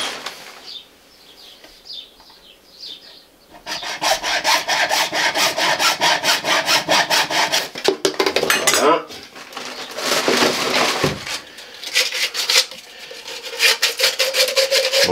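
A piece of material cut to size during drain preparation before plasterboard work, heard as a loud, steady, close rasping saw stroke that runs continuously for several seconds, pauses briefly, then resumes.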